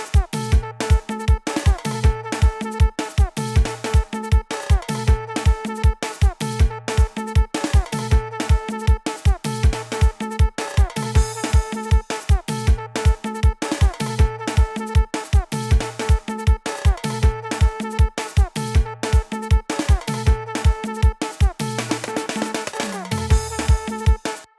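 A bouncy drum and percussion groove for a beat plays steadily and loud, with a punchy kick and dense hits repeating in a driving rhythm throughout, no voices.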